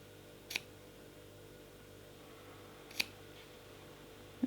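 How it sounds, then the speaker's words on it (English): Scissors snip the ends of synthetic kumihimo braiding cord. Three short, crisp cuts come well apart against a quiet background. "I cut them down so I have about 1 or 2 millimeters left."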